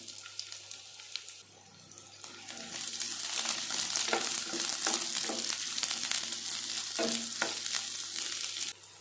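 Loud crackling sizzle as a chopped large onion hits hot oil in a pan, rising suddenly and holding steady, with light stirring clicks.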